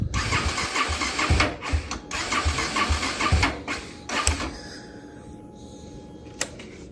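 A BMW R 1300 GS motorcycle engine cranking sluggishly as though the battery were weak, a run of rough, uneven turning-over bursts that stop abruptly, followed by a quiet stretch and one sharp click near the end.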